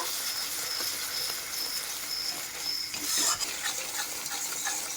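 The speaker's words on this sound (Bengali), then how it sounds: "সরিষা বাটা বাটিটা ধুয়ে সামান্য একটু জল দিয়ে দেব এরপর আবারও ভালো করে কষিয়ে নেব" Poppy seed and mustard paste masala sautés in a pan with a soft, continuous sizzle and occasional stirring scrapes, heard close and moderately loud.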